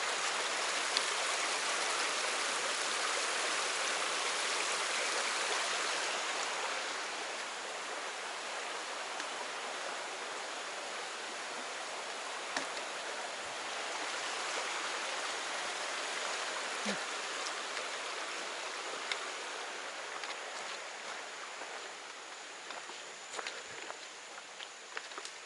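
Steady rushing water of a nearby creek, constant and broadband, with occasional light footsteps and rustles on top.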